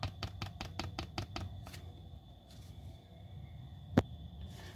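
A loose fog light screw rattles against the bumper of a Fiat Uno, giving a quick burst of about eight light, evenly spaced ticks, then a pause and one sharper knock near the end.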